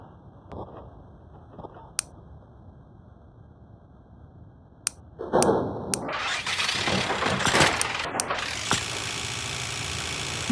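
A bus engine in a video game cranks after a few sharp clicks, then catches and settles into a loud, steady idle that continues to the end.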